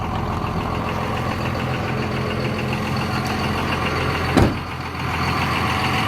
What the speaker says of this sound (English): It's a Cummins turbo diesel. So let me show you how loud it is on the outside.